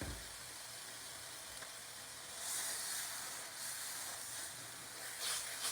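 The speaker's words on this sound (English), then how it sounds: "we're going to get a good sear on these" Seasoned pork tenderloins sear in a hot pan, giving a faint, continuous hiss and sizzle that swells slightly a few times, heard close and alone without talk.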